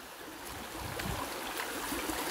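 A shallow stream that is crossed on the way to Busay Falls in Tudela, Camotes Island, Cebu, trickling and gurgling softly nearby and growing a little fuller over a couple of seconds, with no voices.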